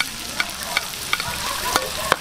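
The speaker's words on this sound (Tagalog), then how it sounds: "Unahin ko na yung bawang." Garlic sautéing in hot oil in a pan for pork sweet ham gives a close, steady sizzle, broken by sharp stirring scrapes roughly every few tenths of a second. No one speaks.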